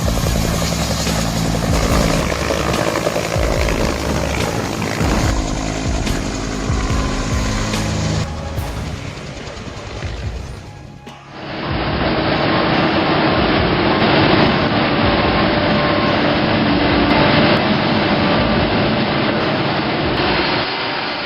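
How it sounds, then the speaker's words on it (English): A Huey helicopter taking off roars loudly and continuously, its rotor and engine noise filling the clip, briefly dipping midway before surging back even stronger. "This Huey blasts wind like a turbo leaf blower on caffeine."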